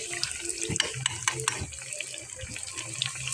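Pieces of tofu coated in flour batter frying in hot oil, giving a steady close sizzle with scattered crackles and light scraping as they are shifted around the pan.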